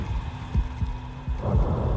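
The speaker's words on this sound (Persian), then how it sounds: "ضربان قلبی میاد" A low, thudding heartbeat pulses in a steady double-beat rhythm over a dark ambient hum in the horror game Silent Hill 2 Remake, with no voices.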